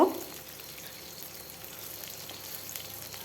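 Cut potatoes frying in a pan for Bengali fish curry give a soft, steady sizzle with faint crackles, fairly quiet and close, after a brief louder knock at the start.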